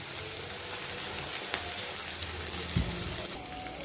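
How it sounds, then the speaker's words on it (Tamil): Onions sautéing in a pan while cooking a drumstick dish give a steady, dense sizzle with a few light clinks and a short stir near the end. "வெங்காயம் கொஞ்ச நேரம் வதங்கட்டும்"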